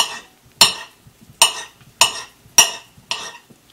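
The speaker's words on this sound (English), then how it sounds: "Right now we're going to cut up our sausage." Knife cutting sausage for an omelet on a board, five sharp evenly spaced chops about half a second apart, crisp and close with quiet gaps between.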